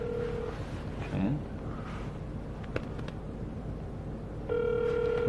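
A telephone ringing tone repeats in steady bursts, loud and close, with a quieter stretch between rings and faint background noise.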